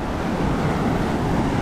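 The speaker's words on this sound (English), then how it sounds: "Look at the waves." Ocean surf rolling onto a Jamaican shore on a fishing morning, a steady broadband wash of breaking waves with wind rumble, continuous and fairly loud throughout, no speech.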